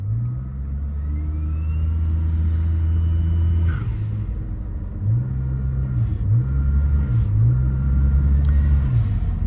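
Suzuki Wagon R fitted with an Apexi exhaust and turbo, heard from inside during regular driving: a loud, steady low engine drone and rumble with pitch rising and falling as it shifts and accelerates, no talking.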